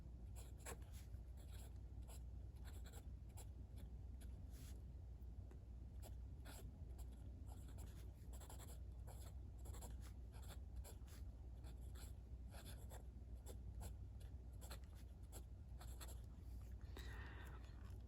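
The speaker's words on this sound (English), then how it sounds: "So we're just going to do a little writing sample here, and then I'll do the Opus 88 Halo under that." An Opus 88 Halo fountain pen writes a sample on paper, giving soft, close scratchy nib strokes in quick irregular bursts over a low steady hum.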